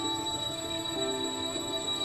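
Birds on a deserted island give a continuous high-pitched, tonal, alarm-like call, steady and fairly loud throughout with no speech.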